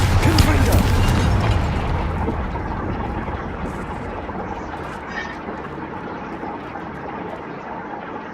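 Confringo spell explosions in the Hogwarts Legacy video game, a loud booming burst at the start that rolls into a long, dense rumbling roar which slowly fades under continued crackling noise.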